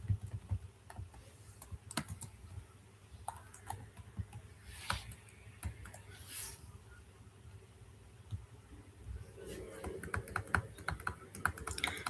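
Computer keyboard typing while code is being written, with scattered clicks and short bursts of keystrokes at low level and a slightly denser run near the end.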